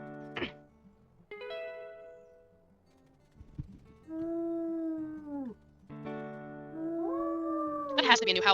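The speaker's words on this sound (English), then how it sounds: "That has to be a new howl animation." An animal howl from a video game sounds in drawn-out, wavering tonal calls that rise and bend, with a few yelps first and a denser chorus of howls near the end, moderately loud and without speech.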